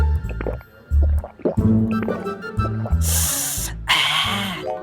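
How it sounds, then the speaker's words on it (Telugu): Cool water poured into a bottle on a hot summer day, a bright rushing pour heard in two bursts late in the passage, with lower bumps and handling sounds before it. "ఇప్పుడు అర్జెంటుగా ఈ కొంటలో కూలింగ్ వాటర్ నింపేసి ఒంట్లో నీటి శాతాన్ని పెంచేయాలి"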